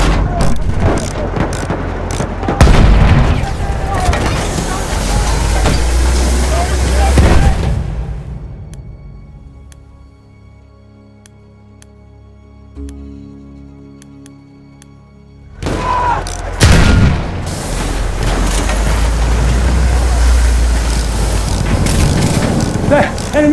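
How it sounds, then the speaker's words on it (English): Loud gunfire and booming battle noise from a video game, with rapid bursts in the opening seconds and again after a quieter stretch in the middle, where a low engine-like drone hangs under faint ambience. Voices call out over the fighting. "Enemy machine gun!"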